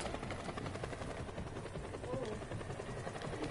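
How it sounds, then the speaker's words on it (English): A video-game helicopter drones in a steady, faint rotor hum that stays constant with no clear rise or fall, under a light scatter of other game sounds. "Onto the helicopter."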